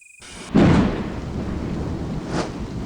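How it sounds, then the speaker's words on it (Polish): Thunderstorm in a game episode, with a loud, close crack of thunder that rumbles on under steady rain and gives way to a second, softer rumble. No talking. "I mamy burzę."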